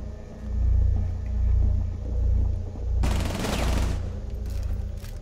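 Gunfire in the video game Rainbow Six Siege, a sharp rapid burst of shots in the middle over a steady low rumbling background.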